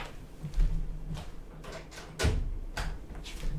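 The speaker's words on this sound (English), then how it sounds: "let me close my door too" A room door being closed indoors, a few soft bumps and clicks with one firmer thud as it shuts, close by in a quiet room.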